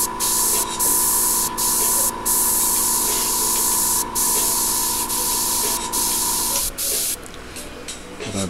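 An airbrush sprays paint in a loud, steady, close hiss with a faint tonal whine, briefly cutting out a few times before tapering off near the end.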